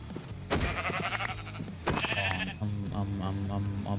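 A video game sheep bleats over background game sounds, giving a few wavering bleats, then a short run of quicker rhythmic calls near the end, close and moderately loud.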